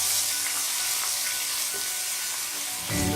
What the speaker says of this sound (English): Roast the ginger and garlic nicely